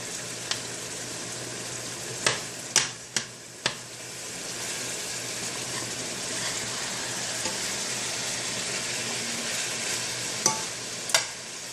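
Ground beef browning in a pan, sizzling steadily while a utensil breaks it into chunks and turns it, with a few sharp scraping clicks and taps against the pan over the sizzle.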